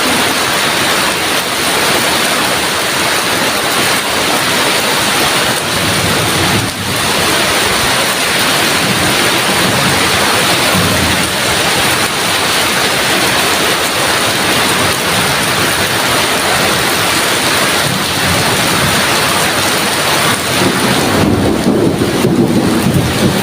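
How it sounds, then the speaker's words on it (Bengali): Heavy rain falls in a constant, loud downpour nearby, a thick continuous wash of water that holds steady with no speech, swelling slightly near the end. "এই তো জোরে বৃষ্টি চলে এলো।"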